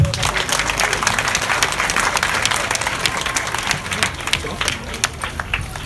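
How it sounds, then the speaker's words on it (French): An audience at a school excellence-day ceremony bursts into applause after a speech, dense close clapping that holds strong then thins slightly toward the end, with some voices mixed in. "Tcherno, on l'applaudit encore s'il vous plaît"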